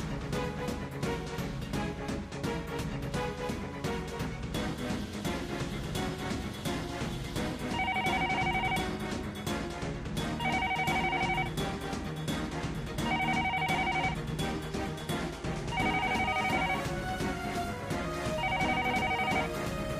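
A telephone bell rings in repeated electronic bursts over a steady background of music, about five evenly spaced rings.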